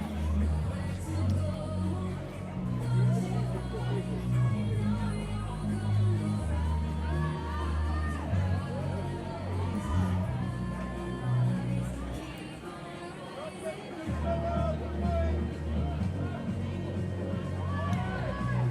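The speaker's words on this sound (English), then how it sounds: "Keep cheering them on." A crowd cheers on teams at a Fittest in PE fitness event, a steady roar of voices and whoops mixed with chatter that runs throughout, with a brief dip in intensity before it picks back up.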